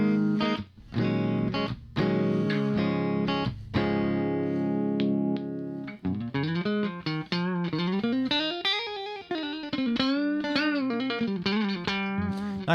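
Electric guitar on a Strat-style pickup setting playing sustained chords and then bending single-note melodic lines, with effects and light distortion, loud and alone without talk.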